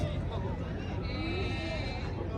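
A goat bleats at a crowded Eid livestock market in Dina, a wavering nasal cry rising over a steady background of crowd chatter.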